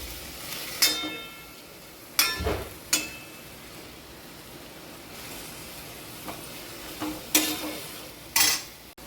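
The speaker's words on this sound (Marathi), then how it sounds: "आता याला छान फोडणीमध्ये मिक्स करून घ्यायची" Moth beans being stirred into hot spiced oil tempering in a pan, with a low hiss and several sharp, isolated scraping clatters of a spoon against metal spread across the clip.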